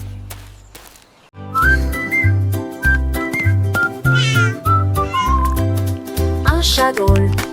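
A cat meows repeatedly within a children's song, the cries riding over a bouncy musical accompaniment with whistle-like melodic tones, loud and close.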